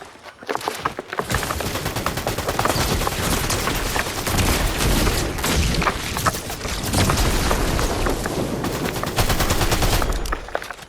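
A Fortnite SMG fires in dense, rapid automatic bursts, sharp and loud. The crackling shots and impacts run almost continuously for about ten seconds with only slight dips between volleys.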